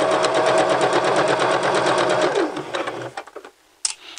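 A sewing machine stitches a pocket piece with a fast, even mechanical whir close by, then slows and stops, followed by a few small clicks and handling noises.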